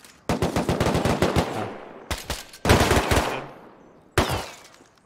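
Bursts of automatic gunfire in the survival game Rust, a rapid string of loud, close shots, then two shorter volleys after brief pauses, with no talk over them.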